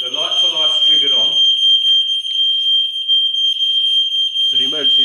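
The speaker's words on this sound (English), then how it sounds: "If we sound that, so this is a detector inside our flat." A smoke detector alarm sounds inside a tower-block flat as a steady, loud, high-pitched continuous tone that runs through the whole stretch, with people talking over it at the start and again near the end.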